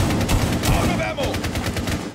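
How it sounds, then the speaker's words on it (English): Gunfire in the game Rainbow Six Siege, with a shotgun among the weapons, comes as a dense run of loud close shots through the whole stretch, with a faint voice under it. "You just shotgunned to get through those walls."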